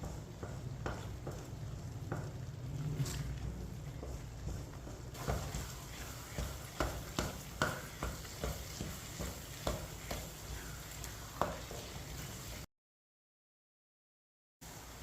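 Suji (semolina) halwa thickening in a pan over medium-low heat, with a spoon scraping and stirring in a steady repeated rhythm over a soft sizzle, close and fairly quiet, cutting to silence near the end.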